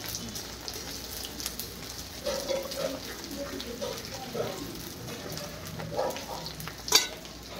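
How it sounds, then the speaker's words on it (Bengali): Potatoes fry in a home kitchen pan with a steady, soft sizzling hiss, broken by a few louder stirring scrapes and a sharp clack near the end; no one speaks. "চলো আলুটা ভেজে"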